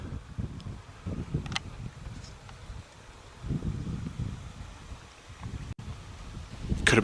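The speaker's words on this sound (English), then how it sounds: "It's getting windy out here." Wind gusting across an outdoor scene in the sci-fi game SESG Explorer, a low rumbling rush that swells and fades in uneven waves, with a few faint higher rustles and a louder gust at the end.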